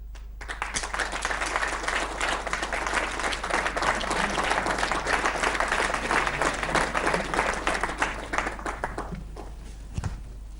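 An audience at Patanjali's annual conference breaks into sustained, dense applause lasting about ten seconds, the crowd clapping loudly and evenly before it cuts off abruptly with a final thump.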